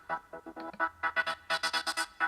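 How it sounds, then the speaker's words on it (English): A rave generator synth for a deep tech track plays in a choppy, gated pattern of short, punchy stabs, rising into brighter, denser hits over a faint low drone, with no talking. "Now I've got this rave generator."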